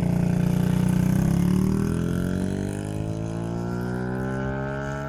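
A small 50cc motorbike engine on a first ride revs loudly and steadily, its pitch sliding upward as it pulls away, close and continuous with no talk over it.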